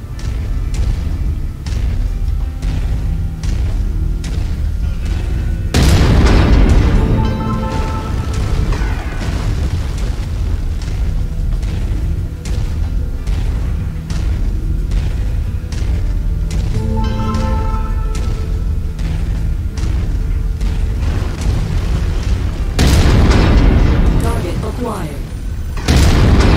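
Explosions of destroyed targets in MechWarrior 5: Mercenaries, two loud close booms with rumbling tails rising out of constant mech engine drone and weapon fire, with a game voice talking between them.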